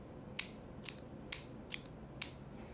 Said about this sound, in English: Here's the click mechanism.